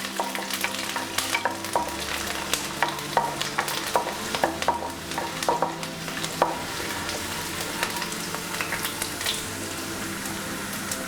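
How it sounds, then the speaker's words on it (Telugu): Finely chopped garlic frying lightly in hot oil in a pan for egg bhurji, a continuous sizzle with repeated clinking, scraping stirs through the first half that then settle into steady frying, with no voices. "ముందు సన్నగా కట్ చేసి పెట్టుకున్న గార్లిక్ వేసుకుందాం. ఇది లైట్గా ఫ్రై అవ్వనిద్దాం."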